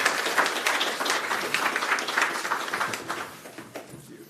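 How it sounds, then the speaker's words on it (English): Audience applause for Kaja at a Europe Day event, dense steady clapping from a roomful of people that fades out toward the end. "I just also want to say a big applause to Kaja as well."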